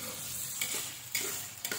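Blended spices sizzle in a hot pan while being stir-fried, a steady crackling hiss broken by a few scraping stirs, close and fairly quiet.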